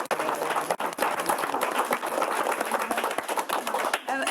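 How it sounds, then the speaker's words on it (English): Audience applauding session speakers at an academic talk on cultural landscapes, with dense, loud, sustained clapping from a room full of people. "we will end this session by giving our four speakers a big applause."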